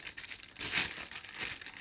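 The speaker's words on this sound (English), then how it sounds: "Let's take it out of the plastic bag." A Feyachi Falcon 3-12x40mm rifle scope slides out of a plastic bag with a short, quiet run of crinkling and rustling. The crinkle swells in the middle and fades, and no one speaks over it.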